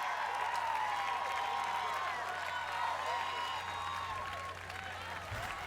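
A large arena crowd at a Houston obstacle-course competition cheers and applauds steadily in the background while an announcer talks over the noise.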